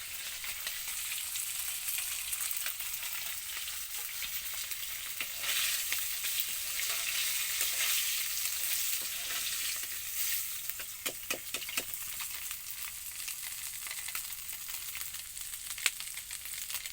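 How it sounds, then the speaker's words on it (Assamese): Fish fries in a pan into a deep red, crisp finish, giving a steady broadband sizzle throughout with brief stirring or turning clatters near the end, fairly close and with no talk. "মাছ মই টাইটকৈ এনেকৈ ৰঙা ৰঙাকৈ ভাজিলে ভাল লাগে"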